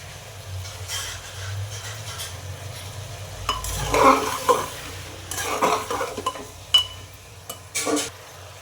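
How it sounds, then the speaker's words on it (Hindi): Chole roasting in a pan with spices and salt, heard as a low sizzle under repeated stirring, with spoon scrapes and occasional clinks against the pan rising and falling throughout. "2 मिनट करीब इसे साथ में भूनना है हमें मसाले के साथ"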